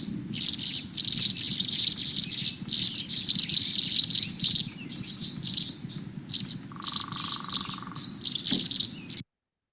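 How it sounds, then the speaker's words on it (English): A bird repeats liquid, watery chirps in a fast, steady stream of short bursts, fairly close and loud over low background noise, with a brief steady tone near the end. "They produce a wide variety of calls, usually liquidy chirps and a variety of noises"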